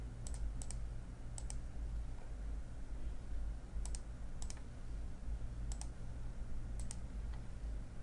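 A computer mouse clicks while a user works in Femap engineering software, giving sharp, close clicks, mostly in quick pairs, spaced apart over a steady low electronic hum.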